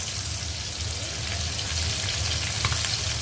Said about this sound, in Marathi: तेल गरम झालं माझं। हे बघा, मी 4 मच्छी टाकलेली आहे।